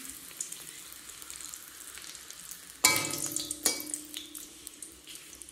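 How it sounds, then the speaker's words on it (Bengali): Papad frying in hot oil with oil splattering, a continuous close sizzle broken by sharp loud pops and crackles partway through, no speech. "বা তেলটা ছিটকাচ্ছে একদম,"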